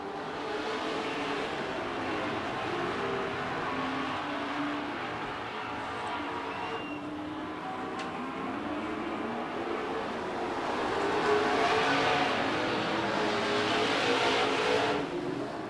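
Race cars roar around a track at PDTR, a continuous dense engine drone swelling louder near the end as the pack passes close, with no talking.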